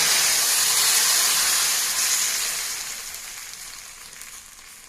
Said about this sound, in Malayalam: സാമ്പാർ ഇപ്പോഴും തിളച്ചുകൊണ്ടിരിക്കുകയാണ് കേട്ടോ